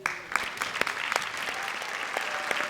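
Steady audience applause for District 3 school honorees at a public school awards ceremony, dense clapping from many hands holding even throughout.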